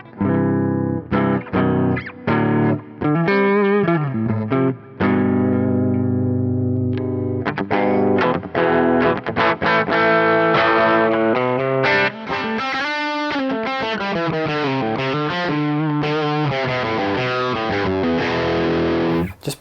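A Harley Benton TE-20HH electric guitar plays single notes through heavy distortion and effects, a loud sustained lead line with bends, slides and quick runs, played solo without any talking.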